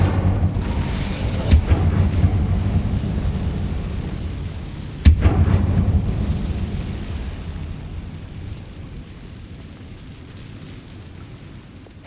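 Incendio fire spell cast in Hogwarts Legacy on PS5, bursting as two sharp booming impacts a few seconds apart, each followed by a rumbling, crackling fiery wash that slowly dies away.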